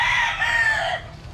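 A lazy roundhead rooster crows once, a single loud, close, drawn-out call that fades after about a second.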